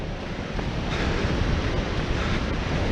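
Surf and gusting wind on the beach at The Hague, reached through the dunes, form a steady, loud broadband wash with wind buffeting the microphone throughout and no voices.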